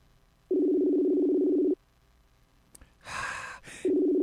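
A telephone line during a call to a cell phone gives two steady ringback tones with a burst of line noise between them, loud and clear with no talking.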